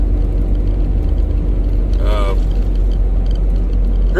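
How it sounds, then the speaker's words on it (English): Steady road rumble and engine drone of a car cruising on Missouri state highway 110, loud and constant, with a brief squeaky whine partway through and a soft one at the end. "Driving on a state highway right now."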